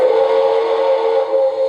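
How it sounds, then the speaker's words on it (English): Whistle of an MTH model steam locomotive, a loud steady sustained electronic steam whistle tone held continuously without a break. "I can blow the whistle"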